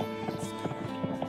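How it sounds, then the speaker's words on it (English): Horse hooves clatter in a quick, uneven clip-clop rhythm for an audio drama scene, a brief burst of rapid hoofbeats over a dark, droning musical bed. "You're suddenly startled by rapidly approaching horse's hooves"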